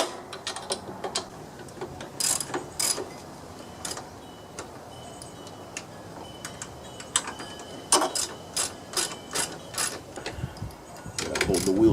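Troy-Bilt TB30R riding mower steering gear with stripped teeth, turning and giving off irregular clicks and ratcheting clatters in clusters, close and fairly quiet, with someone talking in places.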